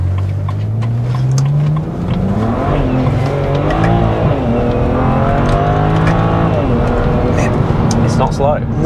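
A modified BMW 335i with an upgraded turbo accelerates hard from inside the cabin, its engine note climbing through gears with rising and falling pitch, loud and close, while people talk over it.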